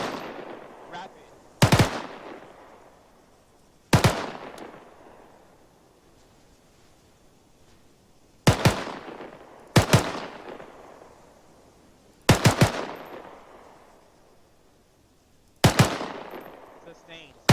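Simulated gunfire in ARMA III, about six sharp, loud bursts of shots spaced several seconds apart, each followed by a decaying echo tail over faint background noise.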